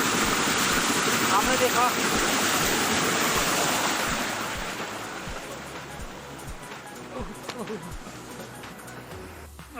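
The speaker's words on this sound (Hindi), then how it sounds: "वहाँ पानी की धार आ रही है और ये घूमते जा रहा है।" A stream of water drives a wooden watermill (gharat) of pine wood in Uttarakhand with a loud, steady rushing that eases after a few seconds, while a voice briefly speaks over it.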